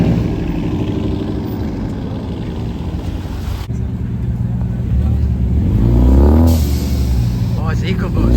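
A Ford EcoBoost car engine revving at a car meet, a loud droning roar that swells and climbs in pitch toward the end, with people talking over it.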